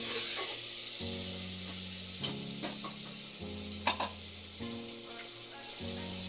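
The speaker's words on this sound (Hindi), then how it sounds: "हल्के हल्के आग से अच्छे तरीके से मिक्स कर देंगे।" Stuffed eggplant (bharwa baingan) sizzles steadily in a hot pan over low heat while a utensil scrapes and stirs it, with occasional clinks against the metal.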